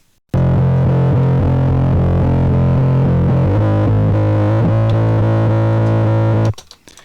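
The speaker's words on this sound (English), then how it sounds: "This is with the distortion pedal." A guitar track played through a distortion pedal: a loud, thick, buzzing sustained riff with shifting chords that rings steadily for about six seconds before stopping abruptly.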